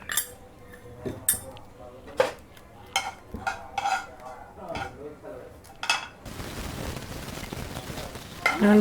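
Cumin seeds dropped into hot oil: a run of metal pan and spoon clinks and taps, then a sudden, steady broadband sizzle that fills the last few seconds.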